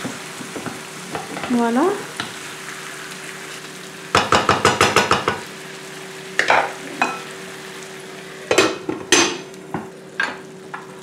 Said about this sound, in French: après avoir fait revenir les cuisses, il faut les retourner